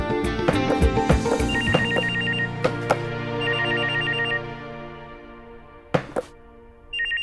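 An indoor telephone rings in repeated short bursts of bell tone, mixed with a few sharp thunks and knocks nearby, fairly loud and close, with no speech.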